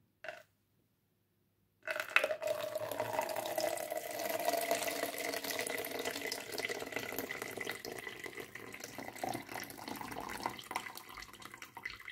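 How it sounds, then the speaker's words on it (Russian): After a brief tap and pause, excess water pours and trickles steadily from a potted orchid, a soft continuous draining splash with faint drips, fairly quiet and close. "тут же всю лишнюю воду слили"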